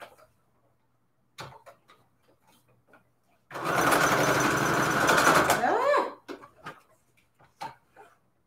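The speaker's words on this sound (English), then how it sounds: "I could sew it right here with the zigzag so that doesn't get worse." Sewing machine running a zigzag stitch for about two and a half seconds, a loud rapid mechanical whir, framed by quiet handling clicks and soft noises before and after.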